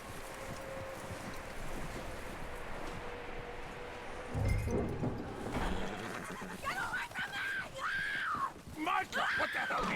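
A horse neighs and whinnies in Red Dead Redemption 2, with a strong call near the middle and shorter whinnies afterwards, set among game ambience and character speech.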